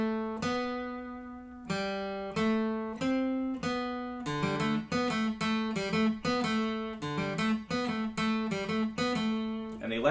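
An acoustic guitar plays a picked lead line in G for a worship song intro, with bright ringing notes and strummed chords building into a quicker rhythmic pattern, close and alone.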